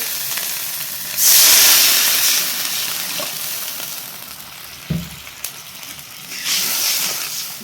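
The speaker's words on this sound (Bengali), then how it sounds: "মশলাটা আমার কষাই করা হয়ে গেছে জলটা দিয়ে দেবো" Water hits hot, fried-down spice masala in a pan and bursts into a loud hiss of steam and sizzling, then settles to a quieter bubble before a second surge of hiss near the end.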